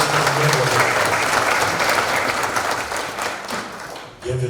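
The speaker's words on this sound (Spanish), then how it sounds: "Mónica, un aplauso para nuestro nuevo" Audience applause at a geopark conference welcoming the new Río Coco UNESCO geopark in Nicaragua, steady, loud clapping that thins and drops near the end before a voice resumes.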